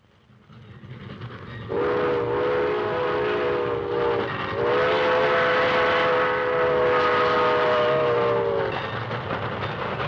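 A freight train rumbles past while its horn sounds in long, chorded blasts, loud and steady, with a brief pause between them.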